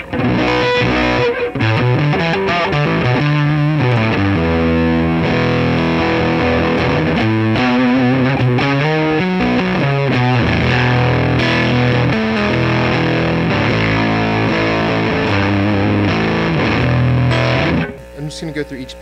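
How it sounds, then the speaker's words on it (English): A distorted Stratocaster electric guitar through a Jordan Bosstone fuzz clone pedal plays a busy, fuzzy riff at full volume, with thick sustained notes and chords, then cuts off near the end. "You can hear the strat sound through this effect when you roll that fuzz down some"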